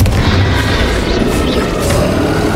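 A Confringo fire spell in Hogwarts Legacy erupts in a loud, booming blast that rumbles heavily across the whole moment with no break.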